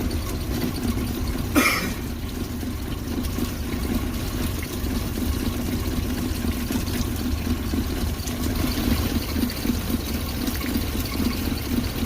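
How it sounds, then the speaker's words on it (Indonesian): A Suzuki car engine idles with the engine running while the radiator is drained and flushed, giving a steady low hum with faint trickling. One brief sharp noise breaks in near the start and no one speaks. "Kemudian prosesnya mesin sambil dihidupkan."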